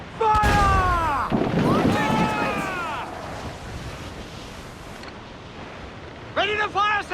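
Ship cannons boom in a naval battle in the pirate game Assassin's Creed IV Black Flag, with loud blasts over surging sea noise while a crew member shouts commands.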